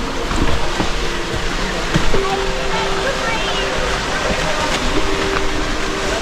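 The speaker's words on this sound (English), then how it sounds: "That's the waterfall." A waterfall on the Ayn Rub road trip near Salalah gives a steady, loud rushing roar of falling water that fills the whole stretch, with faint tonal hums riding over it.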